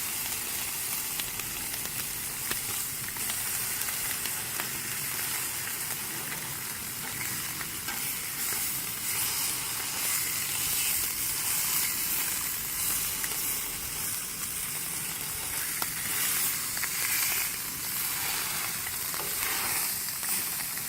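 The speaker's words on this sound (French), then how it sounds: "Donc il y a la vapeur et tout ça." Food cooking with a dense, continuous hiss and sizzle of steam for about twenty seconds, fairly quiet and even, with no talking.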